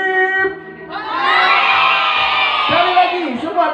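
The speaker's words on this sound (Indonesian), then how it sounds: "Angkat tangannya, teriak hore semua ya." A crowd of children at a kindergarten school performance bursts into loud, sustained shouting and cheering. An adult voice speaks briefly just before the cheer begins.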